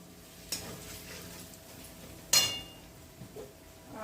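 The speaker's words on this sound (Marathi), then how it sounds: "आत्ता आपण त्यात घालणार आहोत काश्मीरी मिरची पावडर. थोडंसं त्याला तेलात परतून घ्यायचंय" Kashmiri chili powder is sautéed in hot oil in a pan, giving a faint, low sizzle with a few sharp spoon clinks and scraping stirs against the pan.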